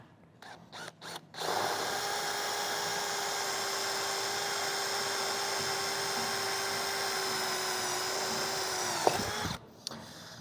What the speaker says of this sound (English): we're ready to start drilling